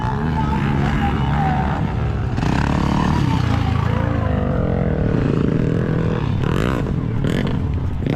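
A motocross motorcycle engine drones steadily and loud, rising and falling as it revs, joined by passing engine noise at a local indoor-category race in Cauayan, Isabela, with no clear talk over it.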